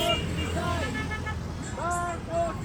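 Car horns honk repeatedly in busy street traffic, with several overlapping toots of varying pitch sounding over a constant engine rumble, and voices audible beneath them.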